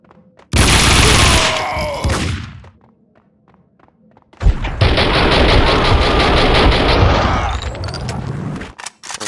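Gunfire in the video game Max Payne 2: two loud, sustained bursts of shooting split by a short, quieter pause, each ending in a fading tail.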